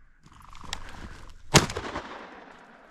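A single sharp shotgun blast from a Franchi Affinity 3 with a modified choke firing 7.5 shot shells during an Arizona quail hunt, preceded by faint rustling outdoors and followed by a short decaying echo.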